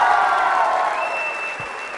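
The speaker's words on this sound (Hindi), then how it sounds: "तालियां जोरों से बजाइए इस गीत के लिए।" Audience applause at a college quiz show event, a dense wash of clapping that gradually fades, with a faint steady tone running through the latter half.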